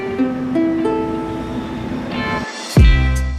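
Open ukulele strings ring one after another as single notes, close and clear, followed by a loud strum of all four open strings together that rings out near the end.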